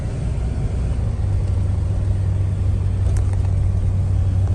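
A Ford truck engine running steadily after a rough-idle fix, a constant low rumble with faint road and cabin noise, close and loud throughout.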